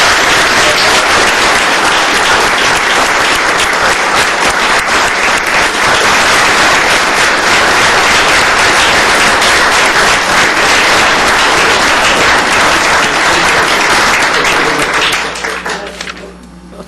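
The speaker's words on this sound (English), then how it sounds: "Let's give her a great round of applause." Loud, sustained applause in a county commissioners court meeting for a volunteer, a dense even roar of many hands clapping for about fifteen seconds before quickly dying away.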